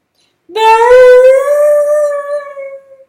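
A long, loud howl with a rising wail in an audiobook, sounding close and alone: one sustained doglike cry that swells, holds steady and fades out over about two and a half seconds.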